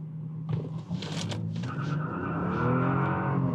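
A Rolls-Royce Phantom VII launching hard from a standstill with wheelspin, the engine note rising steadily as the car accelerates, heard from inside the cabin with a brief thump near the start and no talking.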